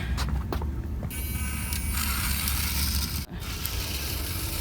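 A cheap RC buggy runs flat out on a driveway, its motor whining loudly and steadily with gear rattle, a brief dip in sound just past three seconds.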